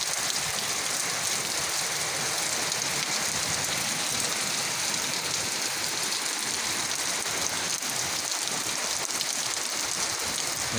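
Heavy typhoon rain in Batangas pours down without a break, a dense, even roar of drops hitting surfaces close by, loud and constant throughout.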